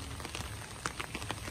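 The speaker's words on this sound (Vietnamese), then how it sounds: "Mưa rỉ rả nè." Light drizzle pattering steadily outdoors on a rainy, stormy day, a soft continuous hiss of rain with scattered, slightly louder drops tapping on surfaces nearby.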